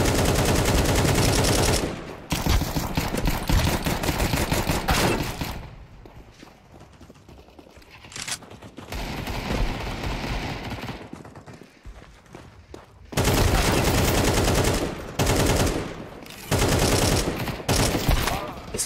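Gunfire in the video game Counter-Strike 2: loud, dense bursts of rapid shots in several clusters, broken by quieter stretches with faint background sounds.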